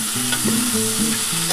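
Bitter gourd sautéed with spices and green chilli for uchhe chorchori crackles in a steady, loud sizzle, with a spatula stirring and scraping close by, no voices.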